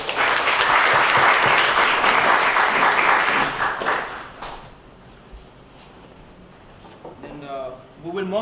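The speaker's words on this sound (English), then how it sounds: "With a round of applause." A conference audience applauds with dense, loud clapping for about four seconds that then thins and fades out. Faint room sounds follow, and a speaker begins talking near the end.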